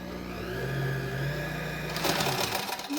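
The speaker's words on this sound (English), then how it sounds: "we're going to stitch straight across all the way down" A sewing machine stitches straight across baby booties, running steadily and close up, with its motor whirring continuously before speeding up briefly near the end.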